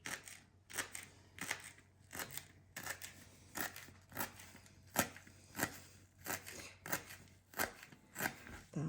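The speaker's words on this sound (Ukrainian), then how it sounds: "а оці м'ягенькі частинки міленько-міленько поріжу у фарш" Fresh dill chopped finely with a knife for cutlet mince, a steady run of crisp, evenly spaced cuts on a board, close and fairly quiet over a low background hum.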